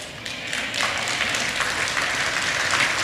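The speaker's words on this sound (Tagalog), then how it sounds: "Yang palakpak ninyo" An audience claps at a church anniversary service, with steady, dense applause that holds for several seconds at an even, fairly loud level and no talk over it.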